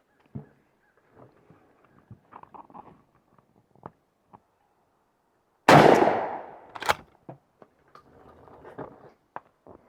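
A single loud shotgun blast fires a Winchester Longbeard turkey load through a Trulock TSS choke outdoors, followed by a sharp echo, with quiet scattered clicks and handling noises before and after.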